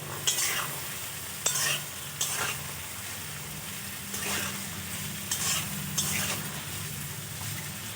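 Capsicum and peas frying together with carrots and beans for fried rice, an even close sizzle with several distinct scraping stirs of a spoon through the pan, no speech.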